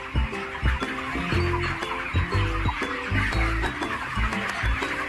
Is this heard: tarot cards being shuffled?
no